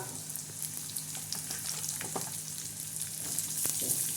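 Onion frying in a pan gives a continuous quiet sizzle, with a few faint clicks of stirring near the end, close and with no voices.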